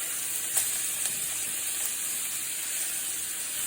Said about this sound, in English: We're gonna go ahead and throw some chops in there. Ooh, you hear that?